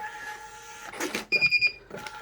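A kitchen receipt printer linked to a self-service ordering kiosk POS system prints an order ticket, giving a quick series of rapid buzzing feed pulses after a click, close and fairly loud over a steady hum.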